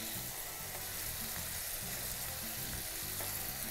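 Sliced banana stem sautéing in a pan with turmeric, chili and coriander powders, a steady close sizzle and frying crackle with occasional stirring scrapes throughout, no talking.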